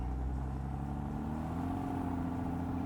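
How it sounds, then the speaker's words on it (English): Porsche Boxster 987 with the 2.7 engine and Tiptronic gearbox, driven with the roof down and shifting through its gears: a steady engine drone whose pitch climbs smoothly as the gear changes, with constant road and wind noise. "Nice smooth change. Tiptronic box, moving it through the actual gears."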